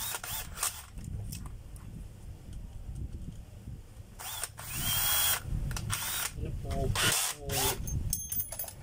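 A power tool whirs in short bursts, with a ratcheting grind as it tightens something, close by over quiet background noise.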